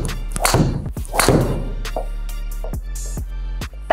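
Cobra Aerojet golf driver striking a ball, heard as a few sharp, loud cracking impacts with quick decay, followed by lighter ticks and thuds; no one talks.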